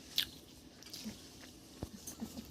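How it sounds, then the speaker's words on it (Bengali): Someone snacks on uncooked food at home, a handful of sharp, close crunchy bites and soft chewing in an otherwise quiet room. "আর দেখো একা একা তুলে নিয়ে কি করে খাচ্ছে দেখো, রান্না হওয়ার আগেই।"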